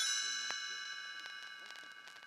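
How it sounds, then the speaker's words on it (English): Page-turn chimes in a read-along storybook ring out with bright, sustained metallic tones that shimmer and slowly fade, with a soft strike partway through. "You will know it is time to turn the page when you hear the chimes ring like this."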